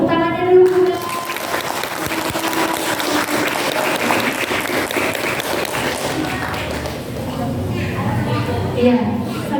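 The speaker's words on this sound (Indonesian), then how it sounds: "Tepuk tangannya dulu, Bunda." Sustained applause from an audience at a school mental health talk show for teenagers fills the whole stretch at steady volume, with a voice briefly heard at the start and end.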